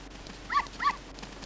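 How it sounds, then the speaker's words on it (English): A dog in Zelda: Ocarina of Time gives two short, bright barks about a third of a second apart over faint background hiss, with no speech. "Come here, dog."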